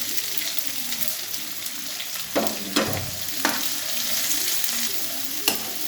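Sliced onion and green chillies frying in a pan give a steady close sizzle, punctuated by several sharp stirring knocks and scrapes of the spoon against the pan, no talking.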